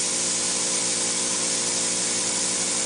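A flex head pole spray gun sprays coating in a steady, loud, continuous hiss with a faint rumble underneath, unbroken and close by.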